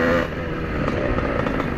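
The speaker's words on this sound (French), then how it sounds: "j'avais pas eu une moto qui tenait le ralenti" A 50cc motorcycle engine idles close by, a steady rough, throbbing rumble with no revving, running on its own without voices.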